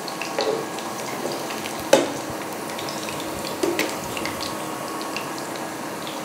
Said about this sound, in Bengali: এখানে আরেকটু ভাজবো, আরেকটু গোল্ডেন কালার হবে।